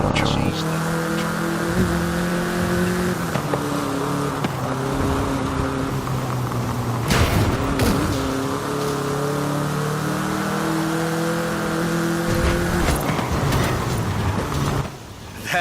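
A small Volkswagen Beetle (Vocho) drives in Forza Horizon 5 with a loud, steady engine drone and rising, stepped rev tones as it shifts through gears. Brief bursts of noise cut in now and then.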